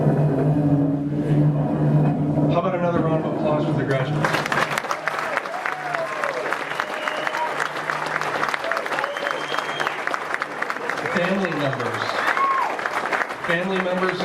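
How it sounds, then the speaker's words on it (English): Applause for graduates at an Air Force base leadership school graduation ceremony, a loud, dense and sustained crackle of clapping from a large crowd, with some tonal sounds and voices mixed in early before the clapping swells. "How about another round of applause for the graduates?"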